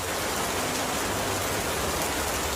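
Steady, dense rainfall forms a loud, continuous broadband hiss with no pauses or voices, heavy and close throughout.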